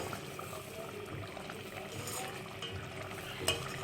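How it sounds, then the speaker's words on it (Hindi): Hand-crumbled browned onion is stir-fried into a beef korma, a soft steady sizzle with gentle stirring scrapes and a single sharp utensil tap near the end, fairly quiet throughout. "ये जो ब्राउन प्याज थी इसको हमने हाथों से इस तरीके से तोड़ लिया था और अब हम ये इसके अंदर लास्ट में ऐड कर देंगे। और इसको थोड़ा सा भूनेंगे"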